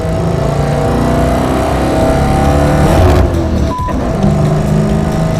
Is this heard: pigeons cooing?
no